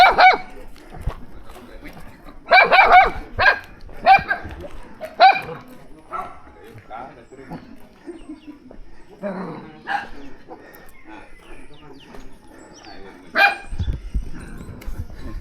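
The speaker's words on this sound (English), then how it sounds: "Oh, doggy." A dog barks in short bursts, fairly close, on a walk through a village, with people talking and rooster-like calls mixed in amid outdoor background noise.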